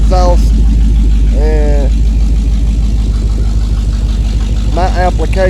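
A 1997 5.7 Vortec V8 runs steadily at idle through its exhaust with headers, a loud, constant low rumble as someone speaks briefly over it.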